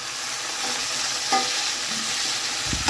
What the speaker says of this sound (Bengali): পেঁয়াজটా হালকা ভাজা হয়ে গেছে, দিয়ে দিলাম একটু টমেটো